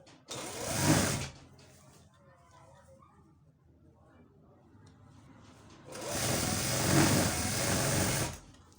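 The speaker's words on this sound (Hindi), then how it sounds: "ऐसे ही सिलाई हम लगाते ही जाएंगे।" A domestic sewing machine stitches a child's shalwar in two loud bursts, a short run at the start and a longer one near the end, with someone talking quietly in between.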